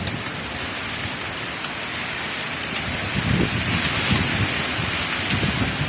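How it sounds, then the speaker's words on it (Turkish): Heavy rain pours down in Beyköy, Keşan, in a dense, continuous hiss, loud and close, with no voices. "Ey maşallah yağmur gibi yağmur."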